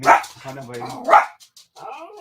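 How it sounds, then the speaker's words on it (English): A neighbor's dog barks a few times nearby, sharp repeated barks with a voice talking between and around them. "hear the neighbor dog barking"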